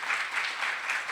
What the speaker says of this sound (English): let's give a big round of applause to our panelists and a chairperson